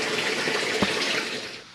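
Water rushing steadily into a home aquarium during a water change, a continuous broadband hiss of filling flow with no voices, holding level before tapering off at the end.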